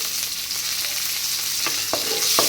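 Curry leaves fry in oil in a clay pot for an oil-brinjal kuzhambu, a steady close sizzle with three short bright crackles near the end; no talking.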